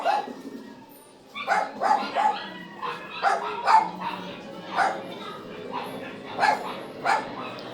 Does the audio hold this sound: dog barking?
yes